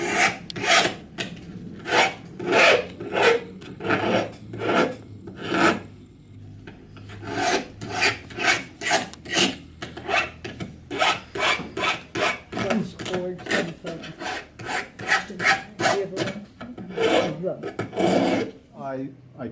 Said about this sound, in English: now I can take a file here.